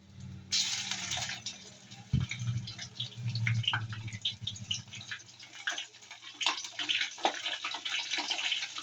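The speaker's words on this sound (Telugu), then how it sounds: "నీళ్ళల్లో కడుక్కొని చికెన్ వేసుకుందాం" Raw chicken is washed in water in a kitchen while cooking, with splashing, sloshing and dripping sounds at moderate distance.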